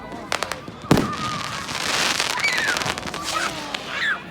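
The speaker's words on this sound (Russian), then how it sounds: "Такие фейерверки здесь обычно в новогоднюю ночь." Fireworks bursting over a neighbourhood on Bonfire Night, 5 November, with a sharp nearby bang followed by scattered crackles and distant pops, whistling rockets rising, and faint voices in the background.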